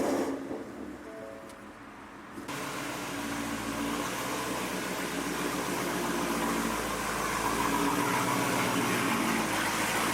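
A 1000HP Dodge Hellcat idles with loud exhaust dumped straight out of the headers, a continuous deep rumbling drone that swells after a brief quieter start and holds steady and close throughout.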